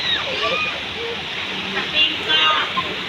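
Ugatong Falls in Apayao, a mountain waterfall, gives a steady broadband rush of falling water that holds from start to finish, with a few brief sloshing swells. A voice is faintly present over it.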